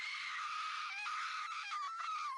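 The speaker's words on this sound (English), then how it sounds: "No, that's just screaming." Screaming from the video game Resident Evil 3 Remake: a sustained, shrill, quavering scream that holds steadily for over two seconds, somewhat thin and distant-sounding, with no other sounds.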